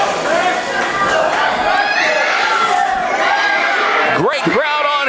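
Wrestling crowd at an event in Greenville, Texas, cheering and shouting loudly and continuously, with sharp whoops and yells rising near the end.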